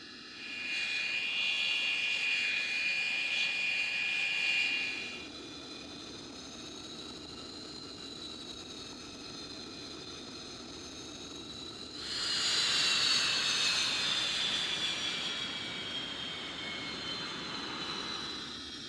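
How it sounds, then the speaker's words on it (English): A propeller aircraft flying a display at an air show at Duxford drones overhead, its engine note swelling louder and fading as it passes, then surging again near the end. "so you can listen to this aircraft displaying"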